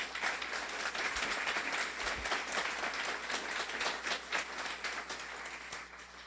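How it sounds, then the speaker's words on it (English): Audience at a guide-dog school graduation ceremony for blind handlers applauds in a sustained, even patter of many hands, moderately distant and fairly soft, with no speech over it. "A round of applause for that."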